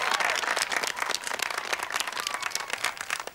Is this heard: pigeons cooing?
no